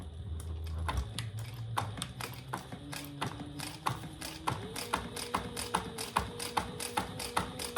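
A sewing machine stitching a clutch wallet runs in a fast, even train of mechanical ticks, close and fairly loud, with its motor tone rising partway through as the pace picks up.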